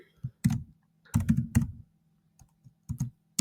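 Close, crisp keystrokes on a computer keyboard while an email address is entered, in short irregular bursts of taps separated by brief pauses.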